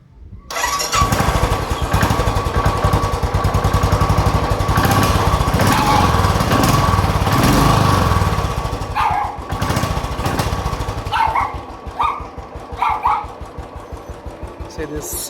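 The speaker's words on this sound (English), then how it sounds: "let me start this vehicle" A Royal Enfield Standard Bullet 500 motorcycle, unstarted for two days and started without choke, cranks and catches, then settles into a loud, close thumping idle with steady rapid beats, tapering slightly later.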